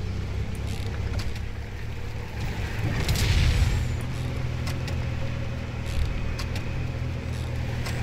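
A car drives in Fortnite Battle Royale, giving a continuous low engine drone with a swelling surge midway and faint clicks and effects on top, with no talking.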